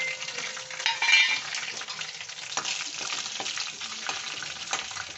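Dry chillies, fennel seeds, cinnamon and cardamom sizzle in hot oil in a pan, a steady close crackle with a few stirring scrapes and no voices.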